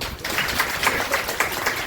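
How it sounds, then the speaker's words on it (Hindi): A church congregation at a Christian worship service claps hands in a steady rhythmic beat, roughly four claps per second, moderately loud and close, with no talk over it. "ताली बजा सकते हैं ना?"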